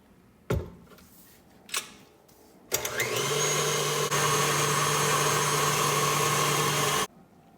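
An electric mixer whips homemade body butter, starting after a couple of knocks and running as a steady, loud motor whir for about four seconds before cutting off abruptly.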